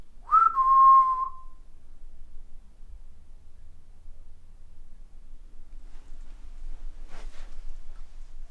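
A single short, clear whistle sounds close by inside a quiet house, followed by long near-silence and a faint tap later.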